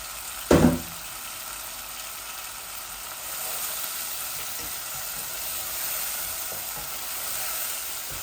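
Chicken with tomato sizzles in a pan for bhuna, opening with a sharp clatter of stirring and then a steady, close frying hiss that holds evenly without talk.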